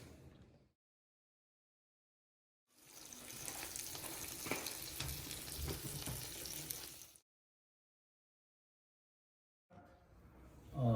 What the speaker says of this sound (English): we're gonna put it in a panini press and let it get crispy on the outside